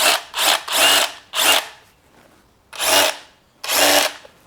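A DeWalt 20V brushless cordless rotary hammer in hammer-only mode fires in a series of loud, rattling bursts of uneven length, some clustered close together and others spaced apart.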